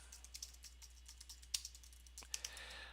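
Fingers tapping a computer keyboard while entering a name on a real estate offer form, a quiet, close run of light irregular clicks with a couple of sharper keystrokes and no talking.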